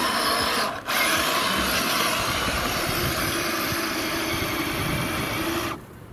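A radio-controlled Toyota Land Cruiser 80 model strains its small electric motor while trying to climb a bump, a steady loud mechanical whine and gear rattle running almost throughout, with a brief dip near the start and easing at the end.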